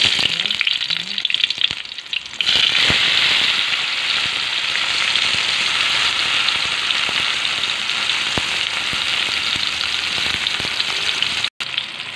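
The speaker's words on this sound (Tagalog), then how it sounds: "Gigisa na natin ang ating sibuyas para sa kamatis." Onions and tomatoes sauté in a hot pan for a breakfast scramble, giving a loud, steady sizzle and crackle throughout. Occasional stirring clinks sound under the hiss, and there is a brief drop near the end.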